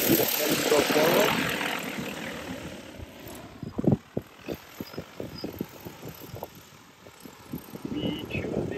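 DJI Agras T40 agricultural drone spinning up and taking off at full throttle in a field, a loud rising rotor roar with sharp bursts around the lift-off, while people talk nearby.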